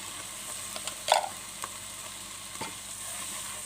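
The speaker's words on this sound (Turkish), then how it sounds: "Şöyle hızlıca kavur hemen karıştırıyorum" Quiet frying sizzle of tomatoes in a pot with a few soft scraping stirs of a spoon, including one sharper clink near the start.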